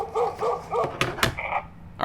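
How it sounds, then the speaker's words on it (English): A dog-barking sound effect plays through a Yealink door phone as its relay triggers, a few short electronic barks followed by sharp clicks and thumps, loud and close. "there's our dog barking noise, which is basically our relay"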